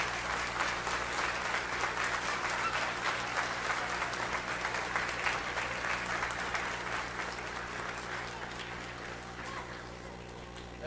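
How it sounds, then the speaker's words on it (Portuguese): A church congregation applauding during a sermon, a broad, even wash of many hands clapping that carries on for about ten seconds and slowly fades a little toward the end. "Você aplaude o Senhor pela vida do pastor Antônio."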